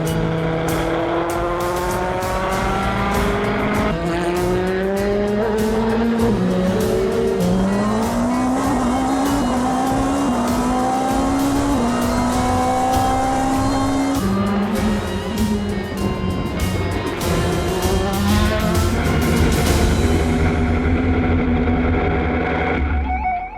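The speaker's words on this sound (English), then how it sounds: "Harry Tincknell then gets to see that brilliant sight of the Dunlop Bridge as he comes out of the pits." Race car leaving the pits at Le Mans on the Circuit de la Sarthe, engine loud and close, revving up through several rising gear changes with a steady roar and no talk.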